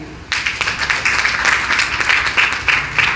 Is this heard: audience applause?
yes